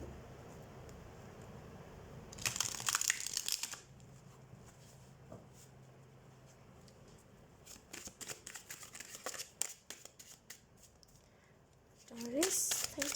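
Tarot cards being shuffled by hand, heard as three short bursts of riffling and flapping at moderate closeness, separated by quiet pauses, with some talking.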